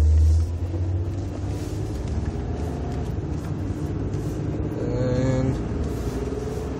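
Steady low howl and drone from a 2002 Nissan Maxima SE with a suspected drivetrain fault, continuous and fairly loud throughout, swelling slightly near the end with a brief whine.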